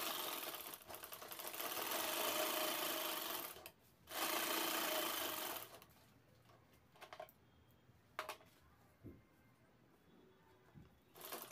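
A sewing machine stitches the side pocket of a handmade shopping bag in two sustained rattling runs with a brief pause between them, followed by quieter handling clicks and taps.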